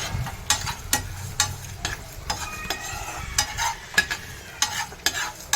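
Ingredients for fish pickle fry and sizzle in a pan while a spoon stirs them, with sharp scraping strokes repeating every half second or so over a steady crackling hiss.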